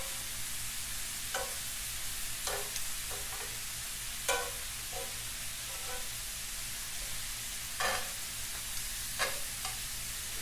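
Garlic and parsley shrimp sizzling steadily in a hot pan, a constant close frying hiss broken by several sharp stirring clicks and scrapes, with no talking.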